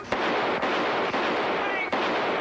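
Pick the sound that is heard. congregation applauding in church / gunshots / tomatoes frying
gunshots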